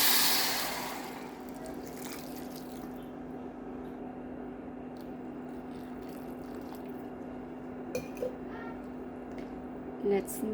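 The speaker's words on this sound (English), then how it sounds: "And let's add 4 cups of hot water." Hot water is poured into a pot of rice seasoned with coriander and turmeric, making a brief broadband rush at the start before it settles into a low, steady background hum.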